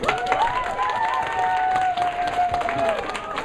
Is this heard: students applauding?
yes